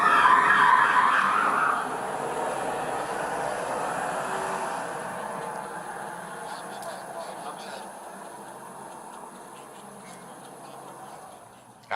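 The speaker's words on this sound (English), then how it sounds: "Squealing can be heard from Jones's vehicle as he drove into the police vehicle." Tires squeal briefly near the start as a car drives into a police vehicle, then the car engine and road noise fade into the distance.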